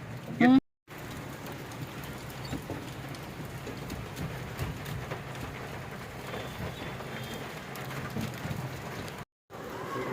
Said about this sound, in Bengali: বৃষ্টিটা হচ্ছে দেখো একবার